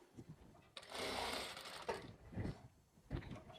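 A sewing machine stitches fabric for a girl's half pants with piping: faint, short bursts of whirring, with the longest run near the start and quick stops in between.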